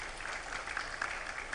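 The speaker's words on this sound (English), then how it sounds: "Round of applause for Jessica." Audience at a publishing congress applauds a newly welcomed speaker, a steady, dense wash of many hands clapping at moderate level throughout, with no voices over it.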